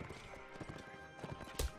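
Hooves of a horse galloping in the Mount & Blade: Warband video game, a rapid steady clip-clop close by with a sharp louder thud near the end and faint game sounds beneath.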